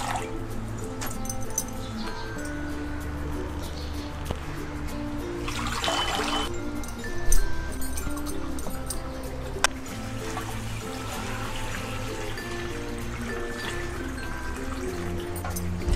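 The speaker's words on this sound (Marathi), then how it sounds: "आता आपण हे चांगलं 2-3 पाण्याने धुवून घेऊया।" Grated potatoes are washed in two or three changes of water for sago-potato papad: trickling, dripping water and gentle sloshing, with a louder splash burst partway through and a steady background hum.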